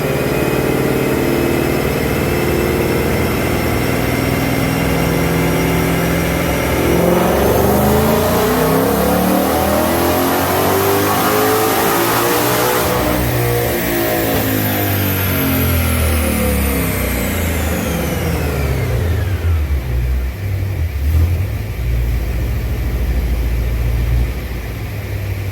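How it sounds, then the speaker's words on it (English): A 2020 Ford Shelby GT500 with factory headers and cats on 93 octane roars through a loud dyno pull, its engine note climbing steadily to a high-rpm peak, then falling back toward idle. "to get started, we're going to do a baseline pull here on the dyno and see what she'll do"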